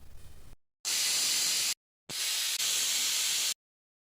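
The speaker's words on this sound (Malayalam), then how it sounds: "കുക്കർ അടച്ചു വെച്ചിട്ടുണ്ട് ഇനി നമുക്കിതൊരു മൂന്ന് വിസിൽ വരും വരെ വെയിറ്റ് ചെയ്യാം" Pressure cooker steam hissing loudly while chicken curry cooks, two long steady bursts broken by sudden silences, with no talking.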